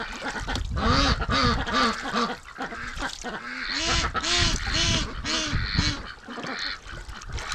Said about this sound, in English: Oh, you pretty little duck.